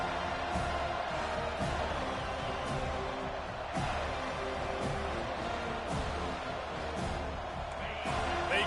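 Stadium crowd at a college football game, Notre Dame against Florida State, roaring continuously after a kickoff touchback: a dense, sustained wall of cheering and noise filling the whole stretch, with faint thuds and swells.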